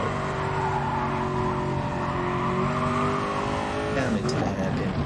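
A racing car sweeps at speed through a corner, its engine note sustained and rising, then a sharp shift as it passes close, with a commentator talking over it.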